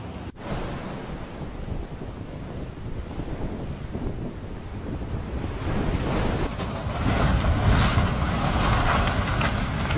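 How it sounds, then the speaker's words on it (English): Hurricane surf pounding the end of a pier on the North Carolina coast, a continuous roaring wash of heavy waves that swells louder toward the end, buffeted by strong wind noise on the microphone. "Look at that huge wave, guys. When it hit the end of the pier there"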